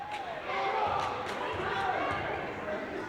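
Crowd noise in a high school basketball gym, a broad steady murmur of many voices, with faint shoe squeaks and the thud of a dribbled ball under a close announcer's voice.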